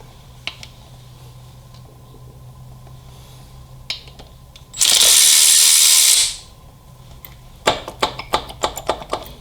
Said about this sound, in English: we're just going to start going around, pulling cam plate bolts